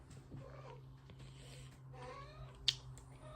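A cat meows indoors in a house, a few faint nearby mews over a low background hum, with one sharp click partway through.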